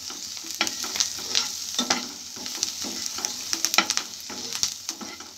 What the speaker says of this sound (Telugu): చూడండి ఏగుతున్నాయి.